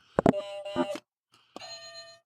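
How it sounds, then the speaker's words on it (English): Electronic game-show buzzers on a comedy show sound in a few loud, harmonic, tonal bursts: two quick presses, then a longer held buzz, a short pause and another sustained tone. "Mark, put the buzzers down."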